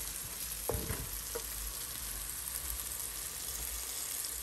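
Capsicum for tofu bhurji sizzles faintly and steadily in a pan, a soft continuous hiss with a brief clink of a utensil near the start.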